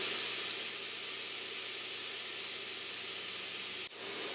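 Garlic sizzles in a pan with sweating vegetables for a vegan cream of mushroom soup, a steady, loud hiss of frying that holds evenly and then cuts off briefly near the end.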